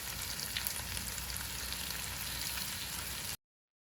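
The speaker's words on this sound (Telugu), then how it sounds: "ఇప్పుడు అన్నీ ఒకసారి బాగా మిక్స్ చేద్దాం." Chicken fry with lemon juice sizzles steadily in a pan while being stirred, a dense, even hiss of frying close by that cuts off abruptly near the end.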